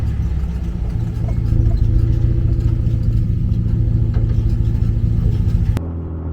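An LS-swapped 1957 Chevy Bel Air with a 400+ hp Corvette engine, driven hard on the street, gives a loud, close, steady low rumble that swells slightly as it pulls, then cuts off abruptly near the end.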